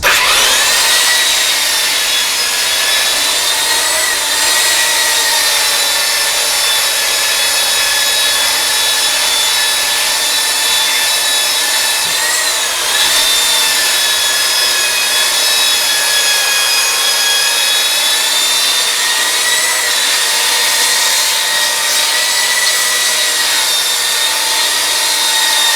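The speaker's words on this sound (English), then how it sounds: "take a nice little belt sander here and just go to town on it." Belt sander grinding down a boat deck built from a mold, a steady, loud, continuous abrasive whine with a brief dip midway, running alone without voices throughout.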